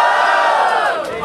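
A rap battle crowd roars and cheers for Afro King's trio, a loud sustained wall of shouting voices that fades slightly at the end.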